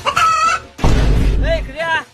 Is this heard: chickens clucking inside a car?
yes